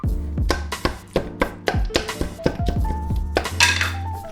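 Wooden spoon mashing boiled beef in a pot, a steady run of close knocks and scrapes against the pot's sides with clinking accents, about a dozen strikes in quick irregular rhythm.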